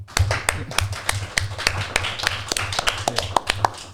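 Hands clap in a quick, steady rhythm of sharp, close claps, with a low hum and a faint voice underneath.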